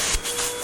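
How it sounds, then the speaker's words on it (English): A vacuum cleaner runs over a beard, a close, loud, steady rushing hiss with a few brief scraping surges as the nozzle moves across the hair. "let me vacuum my beard before everything catches on fire"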